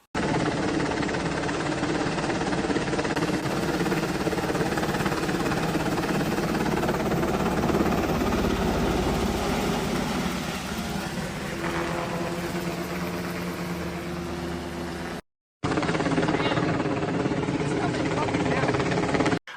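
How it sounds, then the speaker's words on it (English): A helicopter's loud, steady rotor and engine roar fills the scene close by as it flies in with aid after Hurricane Helene, shifting in tone as it approaches, then cutting out briefly before resuming. "when I watched this helicopter come in"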